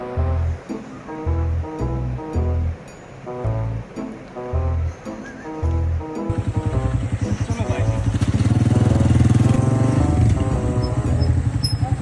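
A motorcycle engine starts partway through and then runs loud and steady nearby with a rough, continuous drone. A voice-like rhythmic sound comes before it.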